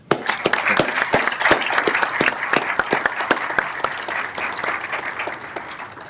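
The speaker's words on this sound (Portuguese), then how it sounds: "a bela palestra da professora Indra Speaker, que agora peço uma salva de palmas." An audience gives a round of applause after Professor Indra Spiecker's lecture at a formal evening event, a loud, dense burst of clapping that starts sharply and gradually thins toward the end.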